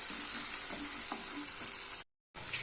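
Small onions and curry leaves sautéing in a pan give a continuous close sizzle with faint spoon scrapes, cut by a brief silent break near the end.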